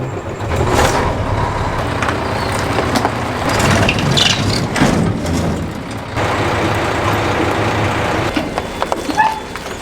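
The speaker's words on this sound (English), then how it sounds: "I'm gonna jump in the semi, see if I can hook on a couple semi trailers and move them." A semi truck's diesel engine runs steadily with a low rumble on a farm yard, joined by clanks and mechanical knocks, fairly close and continuous throughout.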